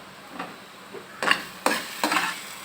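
Food being sautéed and stirred in a pan, with soft sizzling underneath and three or four distinct scraping stir strokes that get louder toward the end, close up with no talk.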